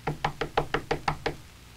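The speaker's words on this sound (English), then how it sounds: "I'll knock" Seven even knocks on a front door, sharp and close, in a steady brisk rhythm, followed by a short quiet pause with no voices.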